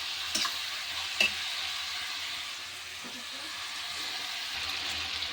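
Poultry chicken leg pieces frying in oil make a steady, even hiss throughout, broken by a couple of sharp clicks early on, with soft stirring underneath.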